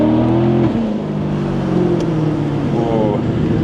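A car engine accelerating while driving at night, loud and close, with a gear change partway through followed by renewed revving under a steady road drone.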